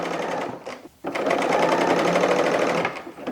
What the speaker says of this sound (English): I moved my serger back a little bit so I can use my table to support my project